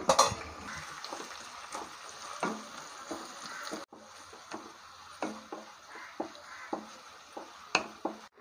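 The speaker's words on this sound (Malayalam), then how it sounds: "ഇനി വെളുത്തുള്ളിയും കറിവേപ്പിലയും കൂടി ഇട്ട് കൊടുക്കുക ഇനി ഇത് നന്നായിട്ടൊന്ന് വഴറ്റി കൊടുക്കുക" Garlic and curry leaves sizzle as they are stirred in a pan for a Chinese potato (koorka) stir-fry, a steady fry broken by repeated scrapes and clinks of a spoon against the pan, with no talking.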